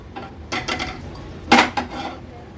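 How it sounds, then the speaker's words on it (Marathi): Turmeric and homemade Agri Koli masala are stirred into hot oil in a pan, with loud close metallic scrapes and clinks from a spoon in a few quick strokes and no talking. "हळद आणि मसाला ह्या तेलातच छान असताना मिक्स करून घ्यायचंय"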